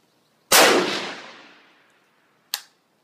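A single sharp precision rifle shot cracks loudly at a 100-yard range while zeroing an optic, its echo decaying over a second, followed by a brief faint metallic clink.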